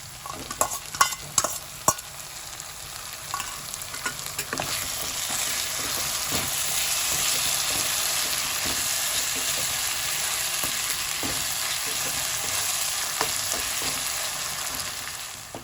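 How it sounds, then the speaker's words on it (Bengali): Chopped tomatoes go into a pan where ginger and garlic are already frying for a mixed vegetable curry, with a few spoon clatters at first and then a steady, close, continuous sizzle with no talk. "আদা রসুন অল্প করে ভাজা হয়ে গেছে, এবার আমি এর মধ্যে 2টো টমেটো কুচিয়ে নিয়েছি, এটা দিয়ে দেবো"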